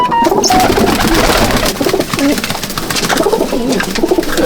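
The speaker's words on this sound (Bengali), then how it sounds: "এবার আমি কিছু ম্যাড্রাসি পায়রা দেখাবো" Madrasi pigeons cooing in a loft amid dense, constant flock noise, with soft overlapping coos and rustling close by and no clear talk.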